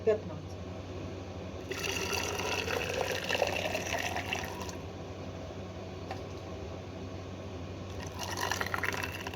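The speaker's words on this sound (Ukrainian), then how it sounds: "Банки тепер заливаю кип'ятком і накриваю на хвилин 10-15." Boiling water is poured into glass jars of marinating cucumbers, heard as two splashing, gurgling pours, one longer stretch and a shorter one near the end, fairly quiet over a steady low background hum.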